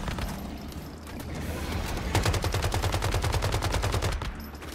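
Rapid automatic turret gunfire from the video game Once Human, loud and sustained bursts starting about halfway through a boss fight, over a continuous low rumble of game effects.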